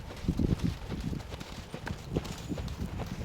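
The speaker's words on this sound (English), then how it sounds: "just a nice easy trot to let our horses warm up" Steady clip-clop of horse hooves in an easy warm-up trot during a hunt seat riding lesson, close and fairly soft over a broad rustling background.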